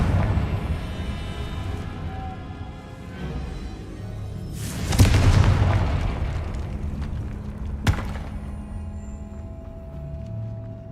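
Confringo blasting spell going off in the video game Hogwarts Legacy: a burst with a whoosh that swells midway into a booming explosion, followed by a sharp crack, over a continuous game soundscape.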